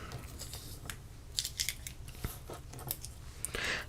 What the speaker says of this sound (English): And I do have a spare piece of thread here that I want to cut off.